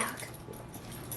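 A small, excited indoor dog whimpers and whines softly, with a few faint yips in a brief, quiet burst.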